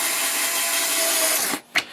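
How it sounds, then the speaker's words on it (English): Small electric screwdriver checking the wing bolts on an FMS 80mm BAE Hawk RC jet, a steady close whirring buzz for about a second and a half, then stopping with a brief rub. "This little screwdriver is awesome."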